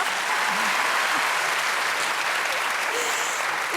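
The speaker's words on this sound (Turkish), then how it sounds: "Alkışlıyoruz Hülya Avşar'ı" Audience applause for Hülya Avşar fills the room, a steady dense wash of clapping that holds at an even level throughout, close and unbroken.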